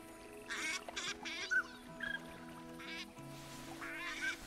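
Pintail ducks quacking in the hunting video game theHunter Classic, with scattered, fairly faint calls over a low ambient wetland background and no talk.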